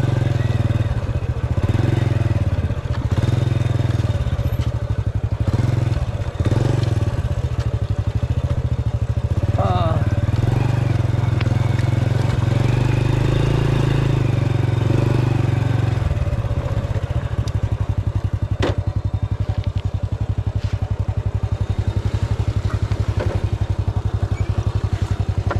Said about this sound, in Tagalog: Lusong natin yung ating motor.